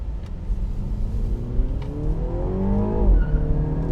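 A F56 Mini Cooper S engine revs up hard under acceleration with a rising, loud exhaust note, and a short tire chirp comes as the revs peak and drop off near the end.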